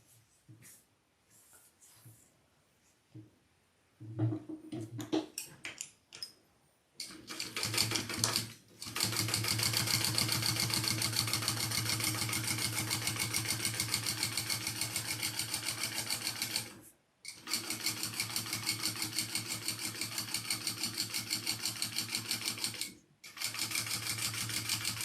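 A sewing machine stitches a crossbody bag in long steady runs of rapid, even needle chatter, with a few short stop-start bursts at the beginning and brief pauses between runs, up close and with no talking.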